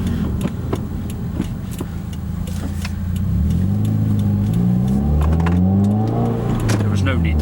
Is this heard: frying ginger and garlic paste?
no